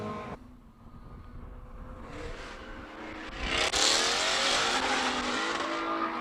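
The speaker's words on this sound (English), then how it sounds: "Glorious sound of American V8" A Ford Mustang's American V8 roars on a Cape Town hill-climb course, swelling from a distant drone into a loud, rising revving pass that holds strong and close near the end.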